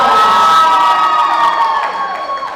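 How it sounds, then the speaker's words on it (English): Guests at a wedding reception in Toronto cheer and shout loudly, with excited high voices and whoops forming a dense, close crowd roar that tapers slightly toward the end. "Round of applause for these 3."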